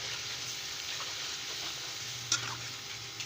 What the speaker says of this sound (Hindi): ये टमाटर का पेस्ट शामिल कर रही हूँ।